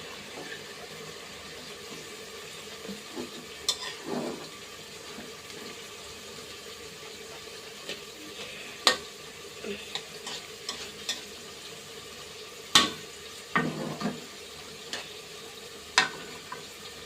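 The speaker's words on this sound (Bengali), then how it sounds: "তো আমি এখন এই যে পাতাকপির ভিতরে আমি চিংড়িগুলো দিয়ে দিব।" Shrimp go into cabbage frying in a pan for a Bengali cabbage and shrimp dish. A soft continuous sizzle runs throughout, broken by sharp scrapes and clinks of a spatula stirring.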